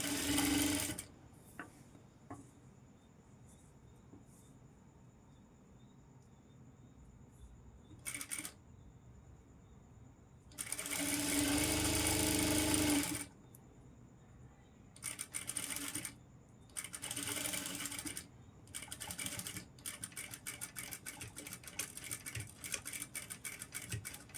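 A sewing machine stitches a saree fall in several separate bursts, short and long, broken by quiet pauses with scattered clicks and taps of handling.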